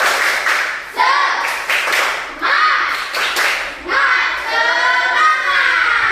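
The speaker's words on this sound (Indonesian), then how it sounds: "Ayo coba dulu tepuk semangat." Classroom students perform the tepuk semangat spirit clap, bursts of rhythmic group clapping in short patterned phrases, with chanting or sung voices running between and over the claps.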